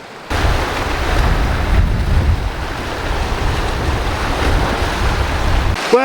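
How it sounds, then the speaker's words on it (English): Sea water surges and splashes continuously against rocks on a beach after a storm, a rough broadband wash with wind buffeting the microphone. "the water's just really kind of splashing off these rocks in front of us"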